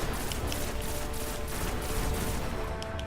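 Dense, continuous gunfire from the Destiny video game, a sustained loud barrage of overlapping shots with no gaps across the whole stretch.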